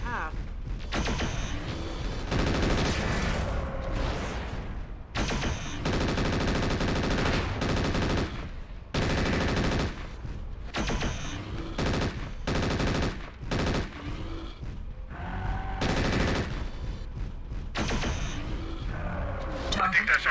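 Sustained machine-gun fire and heavy weapon bursts from the MechWarrior 4: Vengeance intro pound in long stretches with short pauses, loud and near, while radio-style voices talk between and over the shooting.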